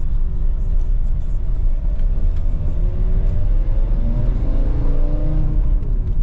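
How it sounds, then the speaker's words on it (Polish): VW T5 2.5 TDI five-cylinder van accelerating hard in second gear on a road test, a heavy diesel drone and rumble with rising engine pitch, steady and close from inside the cabin, no talk. "Auto bardzo ładnie przyspiesza"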